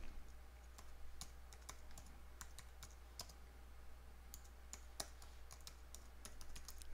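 Fingers type a password on a computer keyboard, a faint, uneven run of light key clicks over a steady low hum.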